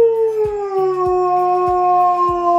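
A dog howls up close in one long, loud, wavering note that slowly falls in pitch, with faint rhythmic thumps underneath.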